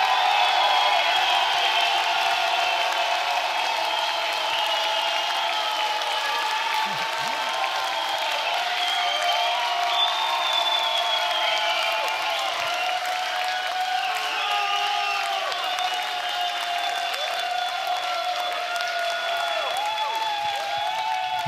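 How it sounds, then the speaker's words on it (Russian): A concert crowd at a guitar battle event applauds and cheers as a guitarist is introduced. The sustained crowd noise carries wavering whoops and whistles over a long, steady stretch. "Ваши аплодисменты,"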